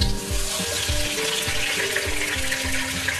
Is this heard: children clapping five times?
no